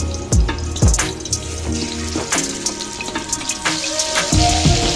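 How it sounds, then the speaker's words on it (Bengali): Prawns go one by one into hot mustard oil in a wok, with a few heavy plops followed by a crackling, bubbling sizzle that stays close and fairly loud. "তেল গরম হয়ে গেছে, এবার আমি মাছগুলো একে একে এর মধ্যে ছেড়ে দেবো। মাছগুলো একটু হালকা করে আমি ভেজে নেব।"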